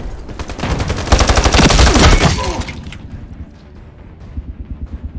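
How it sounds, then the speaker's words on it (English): A grenade goes off in a multiplayer shooter game as a loud, close burst of crackling blast and gunfire-like noise lasting about two seconds, then fading into quieter rhythmic game sounds. "that's my nade in the middle of the room"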